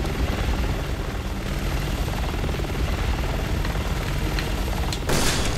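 A helicopter in the video game Resident Evil 6 roars with a loud, steady rotor thrum throughout, closing with a brief sharp burst near the end, and no voices are heard.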